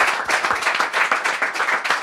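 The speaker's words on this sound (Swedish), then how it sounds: "applåd." Live audience at a Swedish podcast event claps for a guest, a short, close burst of fairly loud applause with a few distinct pulsing hand claps over a couple of seconds.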